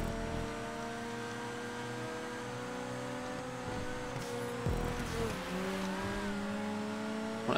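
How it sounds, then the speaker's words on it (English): A video game car engine revs in sustained, droning tones that rise and fall in pitch, with a brief whoosh or tire sound midway. It is steady and moderately loud, with no talk. "When I heard the engine sound, I thought that was a Reaper."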